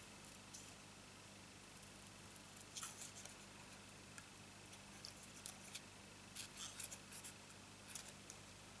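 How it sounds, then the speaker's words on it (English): Scissors cutting around a stamped paper card, heard as faint, quiet snips and rustles in short clusters against a steady low room hum. "If I cut that all the way round"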